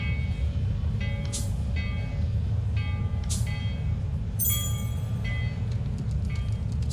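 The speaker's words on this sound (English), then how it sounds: "So this is what a train is like." A train ride in Demon Slayer Hinokami Chronicles gives a continuous low rumble of rolling railcars. Brief high metallic squeals and chimes rise above it several times, and the sound is close and steady, with no speech.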